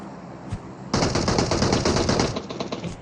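Automatic gunfire in the video game PUBG Mobile: a soft distant shot, then a loud rapid burst of machine-gun fire lasting about two seconds, tapering into scattered shots.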